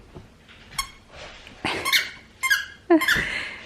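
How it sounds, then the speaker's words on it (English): Dog chewing a squeaky toy ball, producing several sharp high squeaks in irregular bursts, close by and fairly loud, with soft mouthing noises between. "it's so impressive how you squeak that ball"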